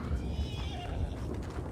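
Horse in the Red Dead Redemption 2 video game neighing with a short, shrill whinny amid game ambience and low rumbling, close and moderately loud.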